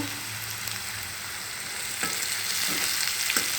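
Ivy gourd curry with turmeric sizzles and fries in a pan while being stirred, a steady close hiss with a few scraping strokes toward the end.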